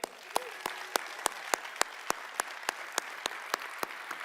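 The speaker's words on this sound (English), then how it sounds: "a warm round of applause for all of the customers who shared their stories today" A keynote audience at the .conf24 tech conference applauds customer speakers. Regular, crisp claps repeat at an even pace over a soft room background, moderately quiet throughout.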